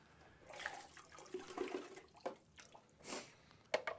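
Water from an espresso machine's drip tray pours and splashes into a sink in uneven bursts, faint and close, with small drips and gurgles and no talking.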